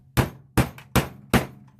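A hammer sets rivets in a handmade removable leather carry case, striking four sharp, evenly spaced blows close up with brief quiet between each.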